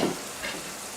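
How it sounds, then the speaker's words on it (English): A steady, soft sizzle of food deep frying in hot oil, an even crackling hiss with no voices. "We're deep frying them, nice and crispy"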